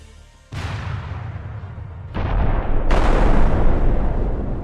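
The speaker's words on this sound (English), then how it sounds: "suddenly several mines are triggered in the path of the tank" Land mines exploding under armored vehicles in combat, with one sudden deep blast followed by two more heavy booms that build into a sustained roaring rumble.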